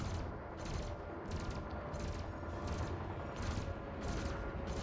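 Multi-cannon fire from a gimballed ship weapon in Elite Dangerous space combat rattles in rapid repeated bursts over a loud, constant engine and combat roar, with no speech.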